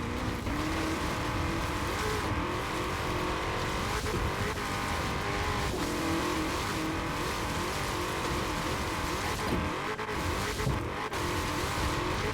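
Racing car in the Forza Horizon 4 video game, a continuous high engine drone with revving and tire squeals as the car bounces over rough ground, steady and loud with no talk.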